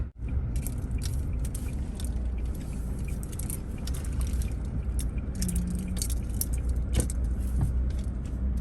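A car driving along a short road trip, a steady engine and road rumble filling the cabin with faint interior rattles and jingling keys, no one talking.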